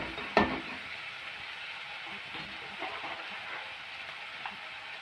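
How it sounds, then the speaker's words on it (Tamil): Tomatoes sauté in hot oil for sorakkai kolumbu, a Tamil bottle gourd curry, giving a faint, steady sizzle that opens with a sharp clatter from the pan. "தக்காளி நல்லா ஓரளவுக்கு 2 நிமிஷம் அது வதங்கி வரட்டும்"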